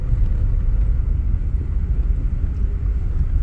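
A Daihatsu Xenia car's engine pulling in fourth gear, a steady low rumbling drone heard from inside the car, constant and fairly loud with no voices.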